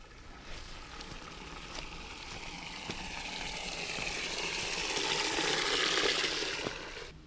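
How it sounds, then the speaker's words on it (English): Water rushes into the drive pipe of a ram pump as the supply is opened, a steady gushing flow that swells louder and fuller over several seconds before easing slightly at the end, with no talking. "let's go ahead and turn on our water here. This will fill up the drive pipe."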